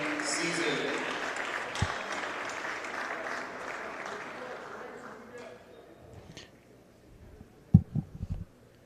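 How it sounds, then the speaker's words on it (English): Applause for senior athletes on a boys varsity volleyball senior night, a broad crowd clapping that starts full and gradually dies down. A few scattered loud claps and thumps are heard near the end. "one final round of applause for our 5 senior athletes in the boys volleyball team"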